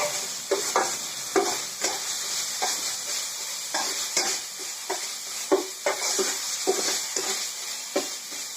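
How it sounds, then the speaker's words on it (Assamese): Marinated hilsa fish sizzle in hot oil for an Assamese chorchori, a constant close crackle with rhythmic scraping strokes of a spatula against the pan and no talking. "এতিয়া মই এইখিনি মেৰিনেট কৰা এইখিনি দি দিম অলৰেডি তেলটো ফুটিছে"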